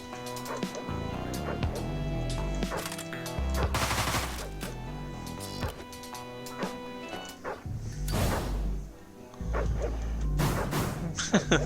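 A dog barks repeatedly in the video game Deadbolt, sharp yips mixed with bursts of gunfire and game music, loud and busy throughout.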